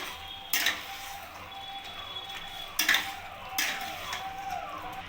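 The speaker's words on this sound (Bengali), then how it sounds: "সোয়াবিনটা দিয়ে ভালো করে আমি নাড়িয়ে নেবো" Soybean chunks being stirred into a chili soybean gravy in a pan, with a few distinct scraping clatters of a spoon against the pan over a quiet background.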